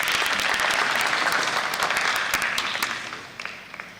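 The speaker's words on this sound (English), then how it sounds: "A round of applause for him." A studio audience claps at a Kenyan morning TV show, a dense, loud, steady burst of applause that thins to scattered claps near the end.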